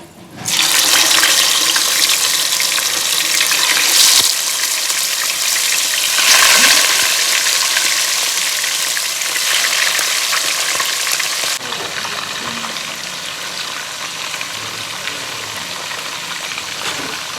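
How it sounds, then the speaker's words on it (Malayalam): Chicken frying in hot oil, a loud, dense, continuous sizzle close by that holds steady throughout and drops slightly near the end, with no talking. "ചിക്കൻ പൊരിക്കാം"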